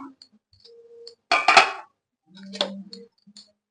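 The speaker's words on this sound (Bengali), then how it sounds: "গ্যাসটা অফ করে বন্ধুরা ঠিক পাঁচ মিনিট হয়ে গেছে আমরা ঢাকাটা খুলে দেখে নেব" A lid comes off a pot of prawn fuluri curry with a sharp metallic clatter, followed a second later by a softer clink of metal against metal, in an otherwise quiet kitchen.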